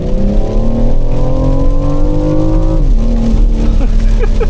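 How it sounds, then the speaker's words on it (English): A BMW M760Li with a V12 and four-wheel drive pulls away under launch control on a wet road, engine note rising smoothly and loudly through the revs before a gear change drops the pitch and it climbs again. "It's not a violent pull away. It's smooth, but it builds up momentum like crazy."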